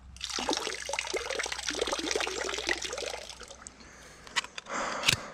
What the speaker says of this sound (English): I'm just gonna drain it in the water.